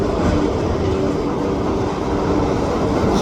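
A freight train of tank and hopper cars rolls through the SRY Trapp rail yard in New Westminster on a foggy morning, giving a continuous loud, low rumble with no breaks.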